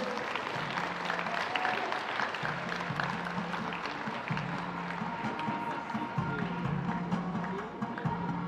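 At an Australia v New Zealand FIBA U17 Oceania basketball final, an arena crowd keeps up steady, dense applause throughout, with some crowd noise and a voice mixed in.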